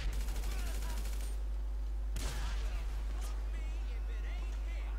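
Gunfire in GTA V gameplay, a burst of rapid shots followed by sharp cracks and impacts, loud and close, with a player's voice talking in Hindi at points.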